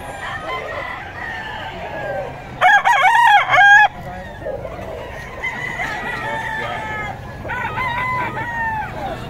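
Sweater Kelso bloodline gamecock roosters crow loudly nearby at a market, one long warbling crow followed later by another, over a background of distant chatter and clucking.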